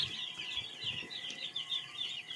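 A crowd of chicks peeps continuously, shrill high chirps overlapping in quick repeated bursts, close and fairly clear with faint rustling below and no talk.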